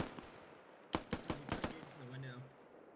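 An M2 .50 cal machine gun fires in the video game Squad as a short burst of about five heavy, evenly spaced shots, fairly quiet and distant, followed by a brief trailing tone.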